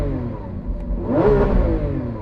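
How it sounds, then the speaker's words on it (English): Lamborghini Aventador SVJ Ultimate V12 engine revving up, a loud rising roar that swells to a peak partway through, then holds at a steady high drone. "I'm going to rev this up."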